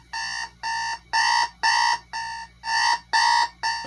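General Electric alarm clock ringing loud and close, eight evenly spaced electronic beeps in a steady on-off pattern, with no voices.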